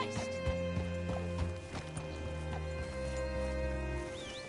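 Steady clip-clop of horse hooves on hard ground in the video game Red Dead Redemption 2, a regular walking rhythm up close, with faint rustling and a soft whinny-like sound near the end.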